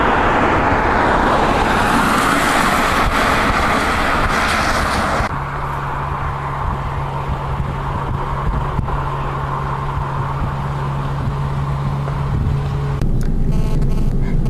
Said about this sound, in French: nous sommes dans la voiture sur la route des Vosges